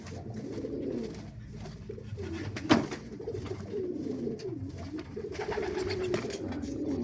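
Soft, repeated homing pigeon coos rise and fall close by, with a single sharp knock partway through over quiet room ambience.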